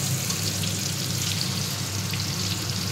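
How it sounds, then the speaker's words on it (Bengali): Garam masala, bay leaf and cumin seeds sizzle in hot oil as a tempering for a mutton curry, a steady, close, even crackle that runs unbroken throughout with no voices. "গরম মশলা, তেজপাতা, জিরে ফোড়ন দিয়ে দিলাম।"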